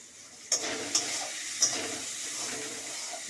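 Grated coconut seasoned with salt and turmeric lightly frying in a pan for a coconut moong dal, a soft continuous sizzle broken by three sharp stirring scrapes, close and fairly quiet, no talk.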